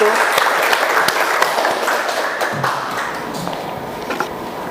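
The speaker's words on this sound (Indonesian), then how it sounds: "Ayo kita berikan aplaus untuk kelompok 1." A classroom of students applauds a group as it comes forward to present, a dense spread of clapping that carries on under a speaking voice and slowly thins out.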